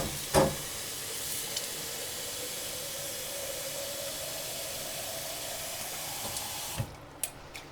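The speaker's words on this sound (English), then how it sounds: "now let's rinse my 4-day one" Tap water runs steadily into a mason jar of broccoli sprouts at a kitchen sink, an even hiss that goes on for several seconds, then stops with a few clinks and drips near the end.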